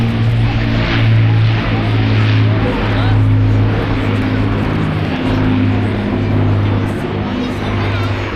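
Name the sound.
Avro Lancaster bomber PA474 flying past at airshow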